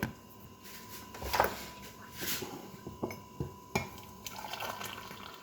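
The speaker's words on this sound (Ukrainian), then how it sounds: "Зараз будемо заливати до кави водичку." Hot water from a boiled kettle trickles into a cup of coffee, a faint liquid pouring sound with small splashes and clinks, close and quiet, with no talk.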